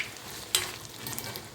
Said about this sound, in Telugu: ఈ మెథడ్లో చేసుకుంటే నేను దీనికి ఆవాలు, మెంతులు, మినపప్పు, ఎండుమిర్చి వేసుకొని వీటిని కూడా దీంట్లో వేయిస్తాను.